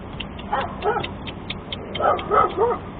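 A dog whimpers and gives short yips and soft barks in two brief bursts, close by, over a faint background hum.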